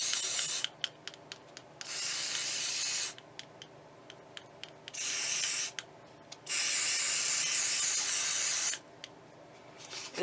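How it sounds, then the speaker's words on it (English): Brown spray paint hisses from an aerosol can in several long bursts of a second or two each, broken by short pauses and the rattle of the can, close by. "I'm going to take some brown spray paint."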